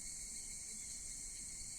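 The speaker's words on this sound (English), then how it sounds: "Did the cicadas sound reasonable in pitch?" Cicadas drone steadily at a night shrine in an Exit 8-style video game, a constant high, even buzzing hum without breaks and with no talk over it.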